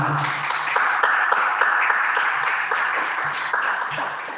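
A church congregation claps together during an evening service, a bright, rhythmic run of hand claps with an even beat and a few louder accents.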